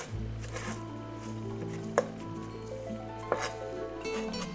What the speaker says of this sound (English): I'm going to chop, it's about a handful of parsley that I just picked off the plant.